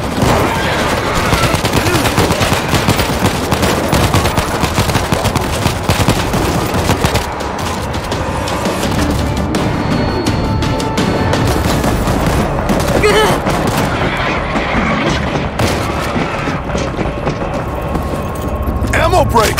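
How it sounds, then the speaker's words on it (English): Auto turret in the World War Z zombie shooter firing continuously for the whole stretch, a loud, dense rattle of rapid gunfire with bursts and explosions layered in and voices under the din. "Auto turret ready."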